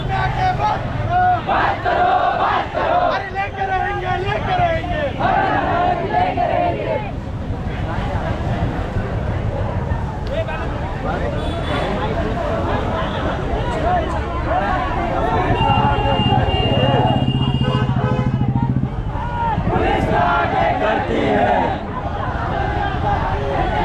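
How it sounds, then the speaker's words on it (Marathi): A large, loud crowd of tribal students protests on a march in Nashik ahead of a road blockade, with steady chanting and shouting voices and a dense babble of talk throughout. "बघू शकता तुम्ही ह्यावेळेस खूप गर्दी झालेली आहे"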